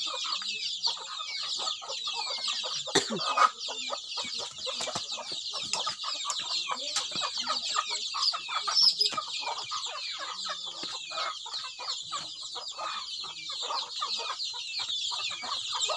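Chickens cluck continuously in a busy farmyard chorus, many birds close by, with a brief louder squawk partway through.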